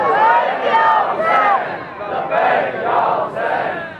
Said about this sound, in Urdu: سب اپنا دائیں ہاتھ بلند کر کے اونچی آواز میں لبیک یا حسین